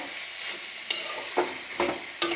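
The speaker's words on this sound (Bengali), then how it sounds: "এবার ভালো করে নাড়াচাড়া করব" Fried whole poppy seeds being stirred into an ash gourd ghonto in a pan: a steady low sizzle broken by four scraping stirs, each a short, sharp swish, the last one loudest.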